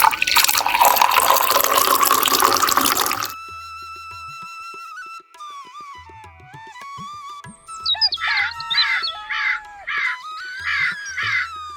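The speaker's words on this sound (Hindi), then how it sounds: "वो रात भर जागकर उसे पानी देता है।" Water poured onto a newly sown seed behind a hut, a loud rushing splash for the first few seconds, then giving way to cartoon-style tones and chirpy musical effects.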